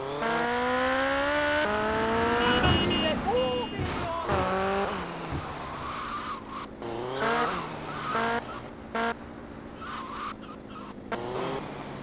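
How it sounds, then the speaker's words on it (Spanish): Motorcycle engine from GTA Vice City, the bike revving in rising and falling pitch sweeps as it rides over ramps, with crash and impact noises and game sounds layered throughout. "para la quinta forma necesitamos una moto como esta, y ahora debemos pasar unas cuantas rampas"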